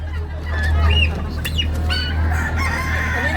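Rooster crowing and clucking among other fowl at a live poultry market in Baliwag, with a steady low hum of the market behind the calls and no talk.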